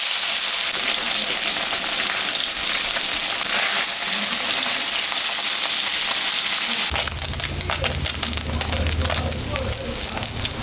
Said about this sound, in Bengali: মাছটা এখন আমি ভাজি নেব।